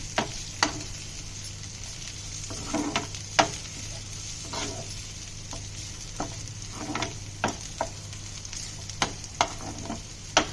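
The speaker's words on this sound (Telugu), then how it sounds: "కారం వేసేసిన తర్వాత కూడా ఒకసారి బాగా మూడింటిని బాగా తిప్పి" Chili-spiced mixture frying in a pan for chicken sausage curry, with a steady sizzle and repeated clinks and scrapes as a spoon stirs it, no talk.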